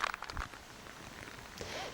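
Rain falls steadily during a women's golf match, a soft broadband hiss of drops with a few louder patters near the start and a swell toward the end.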